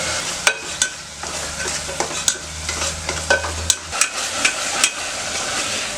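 Onions and tomatoes sautéing in a pan for Tamil-style sambar, with a steady sizzle and repeated sharp spoon scrapes and clanks against the pan; a low hum runs under the first four seconds.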